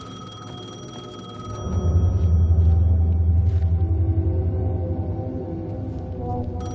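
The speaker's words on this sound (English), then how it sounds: "The payphone was ringing." A payphone rings in the Alan Wake 2 video game, a thin metallic bell tone at the start, then a deep droning rumble swells in and lingers beneath faint ringing.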